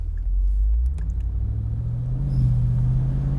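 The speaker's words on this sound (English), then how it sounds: "sound of the V8 and that fantastic exhaust" A deep, rumbling V8 engine note from a Mercedes-Benz SL55 with a low exhaust burble, rising slightly in pitch as it revs, steady and close throughout.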